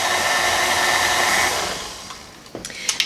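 An electric hand mixer beating chocolate cake batter at medium speed, a steady loud whirring hum for about two seconds that winds down, followed by a few light clicks and taps.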